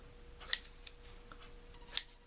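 Two crisp scissor snips trimming the edges of a tulle fall wreath, spaced about a second and a half apart, close and clear against a quiet room.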